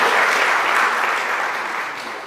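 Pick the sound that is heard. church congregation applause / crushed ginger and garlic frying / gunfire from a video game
church congregation applause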